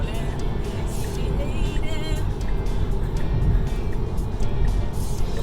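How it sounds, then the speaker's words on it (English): A Tesla car drives along, with a steady, fairly loud road and tyre rumble filling the cabin throughout and no clear speech. "here we are driving the Tesla"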